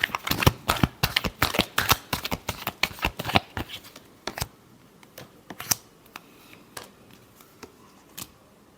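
A deck of tarot cards gets a final shuffle, a fast run of crisp riffling and flapping that stops partway through, followed by a few sparse soft card taps and handling sounds, with no talking.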